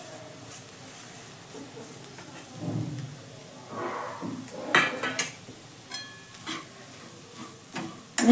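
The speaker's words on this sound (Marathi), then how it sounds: "आणि छान परतून घेऊया." Bitter gourd sabzi stir-fried in a pan with grated coconut and peanut powder: a low sizzle with scattered spatula scrapes and clinks against the pan, growing busier and louder toward the end, close by.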